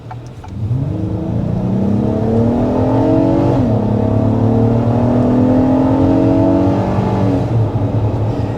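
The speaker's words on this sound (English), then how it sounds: "Now that's a pretty nice hard acceleration there" A 2025 Acura MDX A-Spec accelerates hard, its engine note climbing steadily in pitch with a brief dip at a gear shift before rising again, loud and close with no talk over it.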